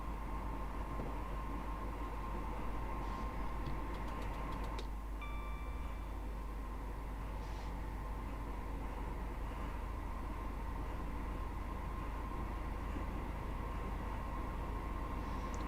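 Train running on the Manchester to Liverpool line, a steady low rumble of wheels and motor heard continuously throughout, with a faint brief squeal and light clatter partway through.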